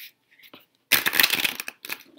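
A quick burst of tarot cards being riffled and shuffled, close and crisp, followed by a few softer flicks and shuffling rustles.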